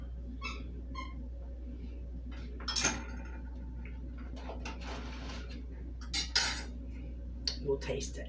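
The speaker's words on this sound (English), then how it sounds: "We'll slather a little butter on this." A knife spreads butter over a slice of homemade no-knead bread, faint scraping and occasional clinks of utensil on plate sounding close, with a few soft vocal sounds mixed in.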